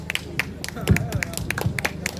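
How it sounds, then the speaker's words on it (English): People clapping at an outdoor protest encampment, a short run of uneven, separate claps at close range, mixed with voices and a few dull thumps. "Don't clap them."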